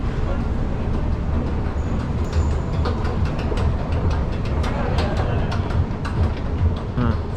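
Rumbling train noise in an underground MRT station beneath the PNB 118 tower site in Malaysia, a steady broadband roar with faint metallic squeals, close and continuous, with some voices mixed in.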